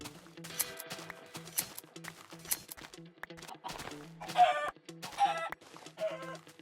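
Chickens in the Minecraft video game cluck repeatedly in short bursts, close and fairly clear, mixed with other soft in-game sounds.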